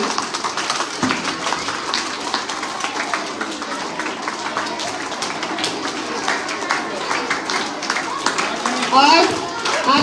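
Applause from a school audience at the Creative Talent Hunt 2.0 award show at Tejawsi Public School, Naugachia: a steady, dense patter of many hands clapping through the whole stretch, mixed with crowd murmur and a brief louder swell near the end.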